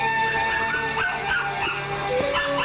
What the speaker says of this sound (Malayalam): ദേ സിൽക്ക് കുരയ്ക്കുന്ന കേട്ടില്ലേ?